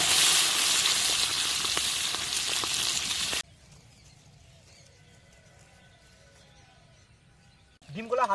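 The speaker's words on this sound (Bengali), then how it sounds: "তেল গরম হয়ে গেছে, এখন ডিমগুলো ভেজে নিচ্ছি।" Eggs fry in hot oil with turmeric and salt, village-style, as a close, loud, bright sizzle for about three seconds. The sizzle then drops away to a much quieter background, with a brief louder noise at the very end.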